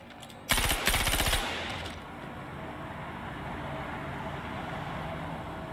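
A rapid burst of automatic gunfire from a recoiling gun in Star Citizen rattles out for about a second, loud and close, then fades into a steady ambient hum.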